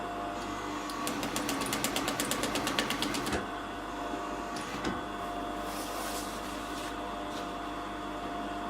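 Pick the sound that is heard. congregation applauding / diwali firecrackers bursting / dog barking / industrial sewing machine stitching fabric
industrial sewing machine stitching fabric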